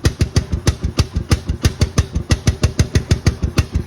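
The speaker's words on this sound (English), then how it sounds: "just thought y'all might want to hear the new exhaust sound." A 2023 Honda XR150L single-cylinder motorcycle fitted with a 115 main jet idles through its exhaust, giving a steady, close, loud thumping pulse of about five beats per second with no talk.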